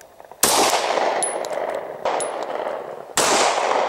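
Three sharp, loud Glock 20 pistol shots ring out about a second and a half apart, each a sudden crack followed by a brief ringing tail, fired at targets set on a doorknob.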